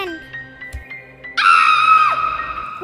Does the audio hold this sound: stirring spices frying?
no